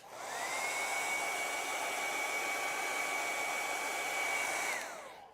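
A hair dryer blowing on acrylic paint during a painting session: a steady close whirring blast of air with a constant motor whine, switching on, running for about five seconds, then winding down.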